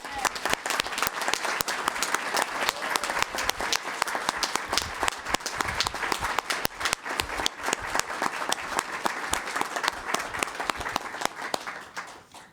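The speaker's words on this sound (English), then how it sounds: "students and everyone who's not a parent, please clap" Students and audience applauding at a school district board of trustees meeting, sustained dense clapping filling the room for over twelve seconds, loud and steady, with a little crowd noise and then tapering off at the end.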